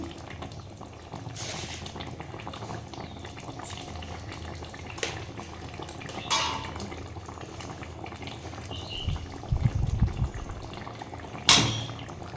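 Mushroom curry simmers in a pan as turmeric and salt are mixed in, a soft bubbling sizzle with scattered spoon clinks and scrapes, one louder stir near the end.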